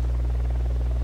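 A drone flying in Ghost Recon Wildlands, a steady low rotor hum and buzz, close and constant for the whole second, with no speech.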